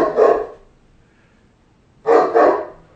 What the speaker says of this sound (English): Get a great Pyrenees, I said. He won't bark, I said.